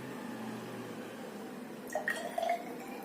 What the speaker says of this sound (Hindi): अब इस टेस्ट ट्यूब में थोड़ा पानी भरते हैं